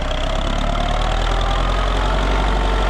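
An MTZ 80 tractor engine labours in second gear while pulling a 2.4 m AGD disc harrow set for deep discing, a loud, close, continuous diesel drone with a rough throbbing texture and no talking.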